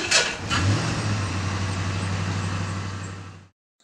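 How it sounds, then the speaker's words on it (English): A Ford Crown Victoria, damaged in an accident, starts with a sharp burst and then settles into a steady, close, droning engine run for about three seconds before cutting off. "The sound you heard there was my Crown Vic"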